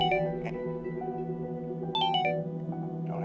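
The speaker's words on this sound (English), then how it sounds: "Do not answer that phone." Phone ringing with a melodic electronic ringtone, repeated tonal chimes over a steady background musical drone, close and clear.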